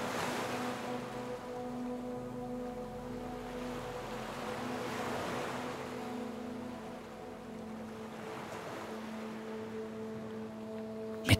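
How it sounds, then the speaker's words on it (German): Ocean waves wash onto a beach in slow, soft swells, a steady broadband surf hiss rising and falling over a sustained low tonal drone, with no voices. "Als du das Wasser erreichst, spürst du die angenehm warmen Wellen, die leicht um deine Füße spielen."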